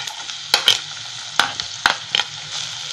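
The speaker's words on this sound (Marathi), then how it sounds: "टोमॅटो टाकून घेऊया." Tomatoes dropped into onions frying in a pan for a sprouted chickpea curry give a steady sizzle, with a few sharp stirring clacks and scrapes from the spoon.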